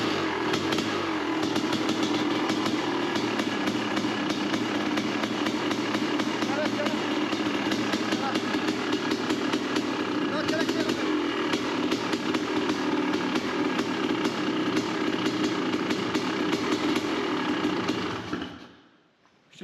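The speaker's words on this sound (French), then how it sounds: "démarrage de la 500 CR avec le moteur tout neuf" Honda 500 CR motorcycle with a brand-new engine running hard after starting, a loud continuous rattling engine roar held close for most of the time before it cuts out abruptly near the end.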